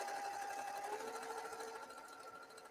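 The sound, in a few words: sewing machine stitching distressed fabric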